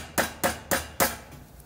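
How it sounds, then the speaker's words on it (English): A hammer drives a nail while a hunting hideout is built, four sharp, evenly spaced strikes close to the microphone, with no talking. "I'm about to hit that other nail."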